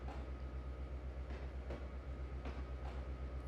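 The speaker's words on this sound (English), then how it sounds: "Just to watch the train roll by." A freight train rolls by in the rail simulator Trainz 2022, with a steady low rumble and faint rhythmic clatter of wheels heard from a distance.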